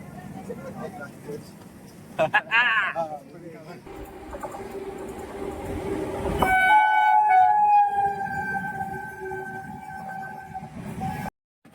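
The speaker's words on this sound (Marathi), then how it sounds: "हॉर्न वगैरे मारलेला आहे" A train's long, loud horn blares for several seconds amid station bustle and voices, preceded by a brief rising siren-like tone.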